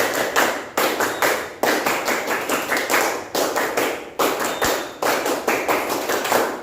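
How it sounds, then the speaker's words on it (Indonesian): Schoolchildren in a classroom performing the Indonesian scout clap, tepuk pramuka: loud, tightly synchronized claps in rhythmic groups with short pauses between phrases, repeated twice through. "Tepuk pramuka."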